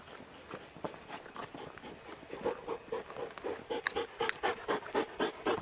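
Stag hounds pant heavily in a desert setting before a hunt, with rhythmic, close breaths from several dogs that grow louder and faster toward the end, mixed with light footsteps.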